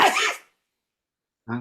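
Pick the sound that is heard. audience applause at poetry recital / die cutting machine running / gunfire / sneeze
sneeze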